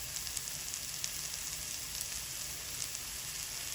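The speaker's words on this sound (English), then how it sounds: "And we want to get these mushrooms nice and caramelized." Mushrooms frying in olive oil over high heat, a faint, even sizzle of oil with small scattered pops, continuous and close.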